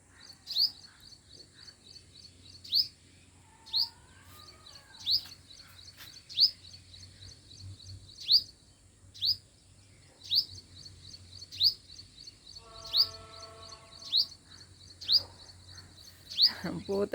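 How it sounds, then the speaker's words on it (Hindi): Small birds in a garden after rain chirp repeatedly in short sharp calls at steady intervals, fairly close, over a low background hum, with a brief rasping trill near the end. "माशाल्लाह चिड़ियाँ भी आती हैं भाई"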